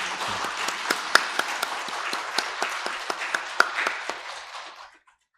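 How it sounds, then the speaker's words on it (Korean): Church congregation at a Sunday service applauds the cell leaders, an even patter of many hands with a few sharp individual claps standing out before it fades quickly into silence. "항상 수고하시는 속장님들, 인도자님들 감사하다고 다시 한번 큰 박수 드릴까요?"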